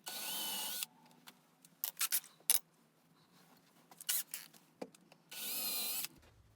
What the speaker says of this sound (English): drill a 5mm hole or something smaller